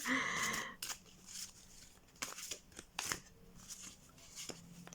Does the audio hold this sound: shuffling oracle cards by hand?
yes